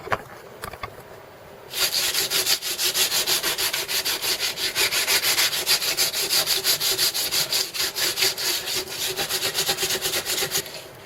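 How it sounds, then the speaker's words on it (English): Steady rhythmic rasping of sandpaper on a wooden walking stick, close and continuous back-and-forth strokes after a brief quieter start. "but sanding time"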